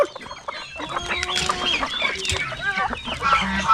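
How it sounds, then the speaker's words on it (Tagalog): Farm chickens cluck and squawk in a busy, overlapping chorus, close by, with a rooster-like call rising among them and faint background noise. "Unti-unti na po dumami yung mga manok natin dito."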